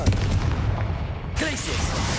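A Confringo fire spell blast in the game Hogwarts Legacy, a loud booming burst with crackling tail, heard close and alone.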